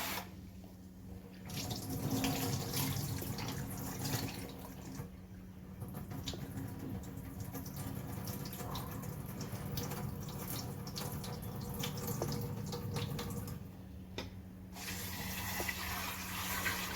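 Running tap water splashes over cowpeas soaked for three hours in a bowl, with steady rinsing and sloshing noises throughout, close by and continuous.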